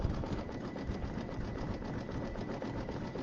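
A sewing machine runs continuously while stitching an Easter egg zipper bag, a steady, even mechanical hum with a rapid rhythmic pulse, held at a constant level throughout.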